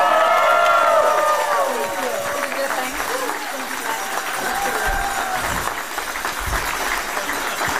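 A crowd at a campaign rally applauds and cheers, with loud, sustained clapping and scattered shouts filling the room while a speaker talks over it.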